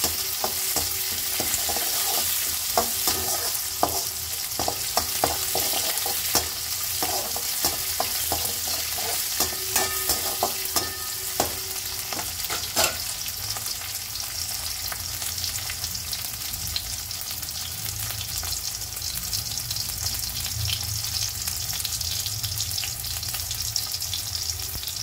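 Onions sautéing in a pan for a village-style okra kara kulambu, a continuous dense sizzle with frequent small stirring scrapes, steady and close throughout.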